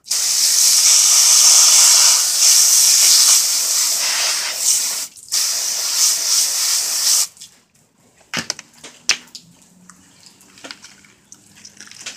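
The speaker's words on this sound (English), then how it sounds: "Rinse that off." A strong water spray rinses a cleaned redfish, hissing loudly for several seconds with a short break, then stopping; scattered knocks and handling clatter follow at lower volume.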